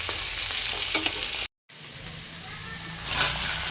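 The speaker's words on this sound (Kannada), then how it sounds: "ಮಸಾಲೆ ಸ್ಪೈಸಸ್ಸು ಈರುಳ್ಳಿ, ಚಕ್ಕೆ, ಏಲಕ್ಕಿ, ಶುಂಠಿ, ಬೆಳ್ಳುಳ್ಳಿ ಹಾಕಿ ಕ್ಲೀನಾಗಿ ಫ್ರೈ ಮಾಡ್ತಾಯಿದ್ದೀವಿ" Onion, cinnamon, cardamom, ginger and garlic frying in a pan with steady sizzling and stirring, briefly cut off mid-way, then continuing with a louder hiss near the end; faint voices may sit underneath.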